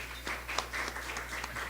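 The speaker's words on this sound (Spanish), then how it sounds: "para quien pido un aplauso" An audience at a national archaeology congress session applauds a presenter, soft scattered clapping over a steady low electrical hum, fairly faint and distant.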